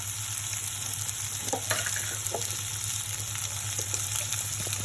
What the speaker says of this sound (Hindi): ये 2 टमाटर डालने के बाद मैं यहाँ थोड़ी इसे सॉफ्ट तक फ्राई करूँगी इस तरह से।